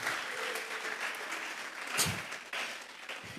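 A church congregation claps together as an offering of applause during a sermon, a sustained crowd of many hands clapping at moderate distance, fairly even with slight swells.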